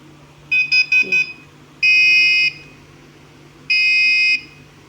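An electronic buzzer gives three short rapid beeps, then two longer steady tones, loud and close over a low hum.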